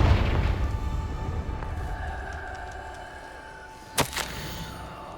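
A Confringo spell blast in Hogwarts Legacy lands as one sharp, loud explosive crack with a short rumbling tail, then a smaller pop follows after a stretch of low ambient rumble.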